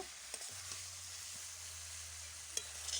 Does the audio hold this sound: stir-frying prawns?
yes